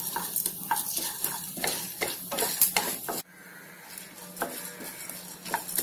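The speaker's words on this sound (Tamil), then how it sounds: "கொஞ்சம் உளுந்து நல்லா சிறந்து வரதுக்கும் வறுக்கணும்." Urad dal and dried red chillies fry and crackle in a pan, a lively sizzle broken by repeated stirring scrapes that drops to a quieter, steadier frying hiss partway through.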